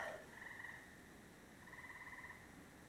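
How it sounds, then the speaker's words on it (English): Frogs croaking in pulsing, rattling trills, two distinct bursts over a quiet night background, moderately distant. "I'm gonna go listen to the frogs."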